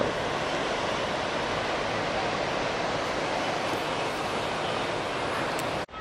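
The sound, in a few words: Muthirapuzha river flowing below the garden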